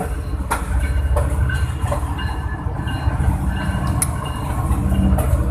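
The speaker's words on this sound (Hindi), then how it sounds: "ट्रेन प्लेटफॉर्म नंबर 2 पे प्लेस होने लगी है।" A train pulls into a platform at Karachi Cantt railway station, with a continuous rumble of rolling wagons broken by sharp clanks and brief wheel squeals.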